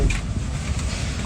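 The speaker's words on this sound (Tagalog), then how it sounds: "Malakas ng hangin." Strong wind buffets the microphone outdoors in a steady, loud low rumble with gusty swells, with no voices over it.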